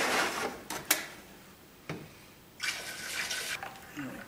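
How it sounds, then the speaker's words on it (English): Running water rinses IC chips to dilute acid during gold recovery pretreatment, a broadband wash that rises and falls with a few splashy bursts and sharp knocks, fairly quiet and without speech. "So I'm going to keep rinsing it until the water comes clean."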